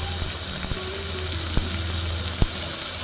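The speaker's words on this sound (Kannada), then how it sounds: "ಸ್ವಲ್ಪ ಜೀರಿಗೆ ಎಣ್ಣೆಲಿ ಬಂದಮೇಲೆ ತಕ್ಷಣ ಇದಕ್ಕೆ ಏನಪ್ಪ ಅಂತಂದ್ರೆ ನಾವು ನೆನೆಸಿಟ್ಟಿರೋ ಅಕ್ಕಿಯನ್ನು ಹಾಕೋತಾ ಇದ್ದೀನಿ." Soaked rice hitting hot oil with cumin seeds for jeera rice makes a steady, loud sizzle and crackle close up, broken by a few sharp pops or utensil taps.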